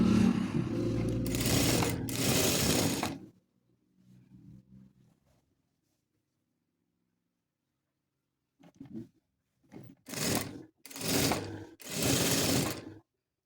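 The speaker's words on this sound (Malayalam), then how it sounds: "നമുക്ക് നല്ല സ്ട്രെയിറ്റ് ആയിട്ട് തന്നെ ആ ഒരു സ്ലിറ്റ് സ്റ്റിച്ച് ചെയ്തെടുക്കാൻ പറ്റും." A sewing machine stitches a slit in fabric in short bursts: a long whirring run at the start, a quiet pause with faint handling, then several brief loud runs close by, with no talking.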